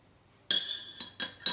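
A stock Glock 34 pistol barrel being handled, giving a few sharp metallic clinks and clicks, close and clear, with no speech.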